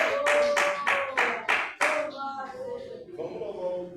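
Hands clap in a steady rhythm of about seven sharp beats during a Portuguese-language church service, with singing voices carrying through and continuing on their own after the claps stop.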